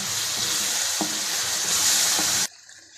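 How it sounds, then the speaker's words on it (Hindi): Yogurt and spices fry loudly in a pan for bhuna qorma, a dense hiss with a few spoon knocks while being stirred, then the sizzle cuts off abruptly near the end. "अब इसमें दही शामिल कर दें और इसको अच्छे तरीके से मिक्स कर लें"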